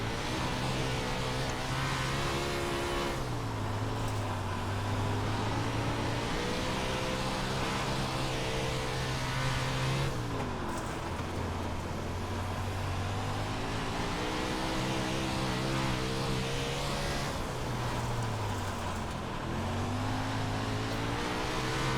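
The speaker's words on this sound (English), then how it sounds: "Car is way more loose on entry, so I gotta make sure I don't whip her in there so hard." Race car lapping a track for a wing angle and position test, its engine loud and continuous throughout, pitch rising on acceleration and dropping into corners in repeated cycles.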